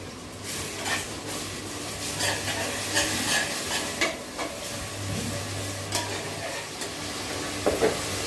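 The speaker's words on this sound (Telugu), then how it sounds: "ఈ ఆనియన్స్ వేగాలండి" Onions fry in oil with ginger garlic paste, a steady close sizzle broken by repeated scrapes and clinks of stirring in the pan.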